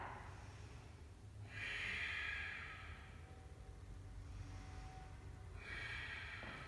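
Slow, deep breaths during a yoga pose, two long airy exhalations a few seconds apart, soft and close with a quiet background.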